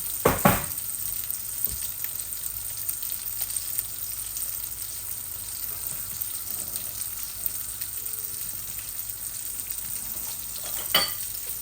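Hilsa fish pieces fry in a little oil, a soft, steady sizzle with occasional louder clatters as the fish is turned in the pan; no voices are heard.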